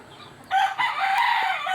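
A rooster crows loudly and close by, one sustained call rising out of quiet farmyard air, with chickens nearby and no one talking.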